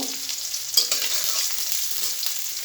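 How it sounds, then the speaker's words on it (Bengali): Chopped onion fries in hot oil with cumin seeds for a pasta dish, giving a steady close sizzle with light stirring and no talk. "গরম হওয়ার পরে আমি কিছু আস্তা জিরে দিয়ে নিছি জিরাটা দেওয়ার পর দিয়ে দিলাম কিছু পেঁয়াজ কুচি পেঁয়াজ কুচিটা একটু ভাজি ভাজি করে"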